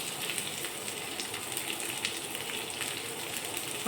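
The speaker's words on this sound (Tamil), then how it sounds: "கருவேப்பிலை போட்டுட்டு பச்சை மிளகாய் சேர்த்துக்கலாம் லேசாக வதங்க வச்சுட்டு" Curry leaves and green chilies sautéing in hot oil in a pan, a soft, continuous crackling sizzle that stays fairly quiet and even throughout, with no talking.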